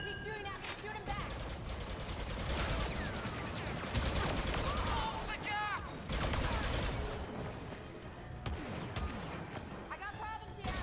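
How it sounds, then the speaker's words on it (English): Blaster fire in a Star Wars Battlefront II battle, repeated shots and bursts crackling over a busy mix of effects and music, with voices talking throughout. "He's shooting at me. Shoot him back."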